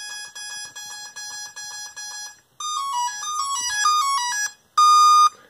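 Turnigy Plush electronic speed controller flashed with BLHeli emitting throttle-calibration beeps: a repeated series of short steady tones, then a rising and falling stepped melody, and finally one loud sustained tone, all clear with no talking.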